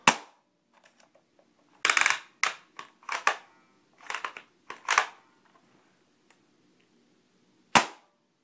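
Sharp popping shots from a homemade CPVC turret, fired in uneven bursts of several cracks with short gaps, then one last isolated shot after a pause.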